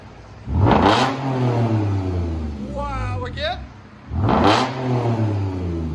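A 2016 Lexus GS 350 F Sport V6 with true dual exhaust and Dynomax Race Bullets revving twice, each loud, close blip rising then settling into a smooth idle, with someone talking briefly between the revs.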